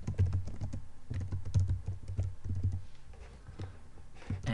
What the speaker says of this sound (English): I'm gonna type here email address, email, changing here the IDs,